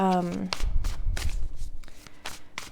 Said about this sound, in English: just doing a little shuffling here